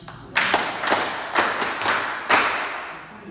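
Applause from an audience at a French-language church-style gathering, heard as bursts of clapping that swell and fade in several waves, fairly close and loud, with no talking over it.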